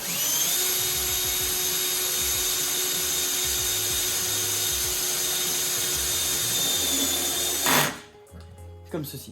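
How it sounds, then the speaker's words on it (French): A power drill drives self-tapping screws into a spa cover lifter, a loud, steady whine held for several seconds before stopping abruptly; someone speaks briefly as it ends. "vous venez simplement insérer votre vis autoperforante dans chacun des trous"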